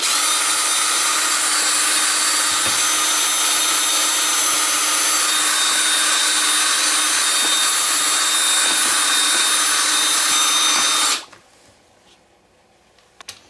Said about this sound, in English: I like to use a designated drill just for mixing.